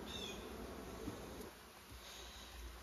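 Honey bees buzz steadily around an open beehive kept by a Canadian beekeeper, a dense close swarm drone that holds for the whole few seconds with no talking.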